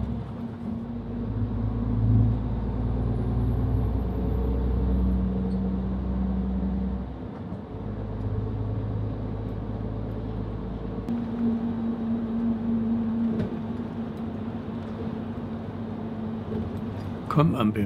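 A car rolls past Gate 1 with a low, steady engine drone and road rumble heard from inside; the hum dips briefly partway through, then resumes.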